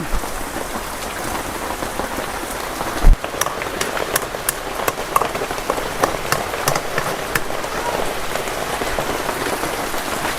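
Steady rain falls on a surface beside a kitchen hearth, a dense continuous patter with scattered sharper drops standing out, and one brief louder knock early on; no one speaks.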